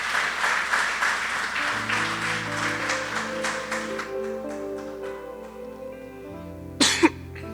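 Congregation applause in a Spanish-language church service, a dense clatter of clapping that fades over the first seconds beneath sustained organ or keyboard chords, with a sharp cough near the end.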